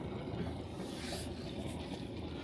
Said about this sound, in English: we're testing the engine before we go off voyaging